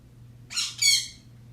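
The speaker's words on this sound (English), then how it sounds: "Rico's the name of the very loud bird" A very loud pet bird indoors lets out two harsh, shrill squawks in quick succession, close and alone over a faint low hum.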